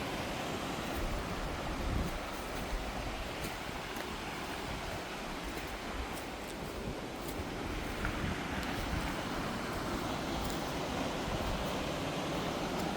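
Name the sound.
waterfall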